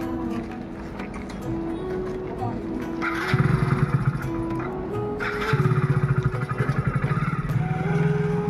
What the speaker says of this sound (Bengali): ছোট্টু চলে গেল বাইকে